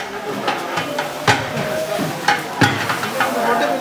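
Ginger garlic paste frying in a large pot at a big village festival kitchen, giving a loud, continuous sizzle broken by rhythmic scraping stirs.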